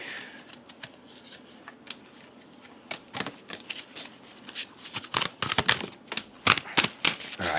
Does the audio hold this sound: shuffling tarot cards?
yes